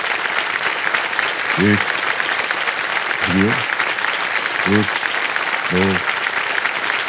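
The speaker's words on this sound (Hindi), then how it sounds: "जोरदार तालियां बज जाए।" Loud, continuous studio audience applause on the KBC quiz game show set, a dense wash of clapping throughout while a voice counts aloud over it.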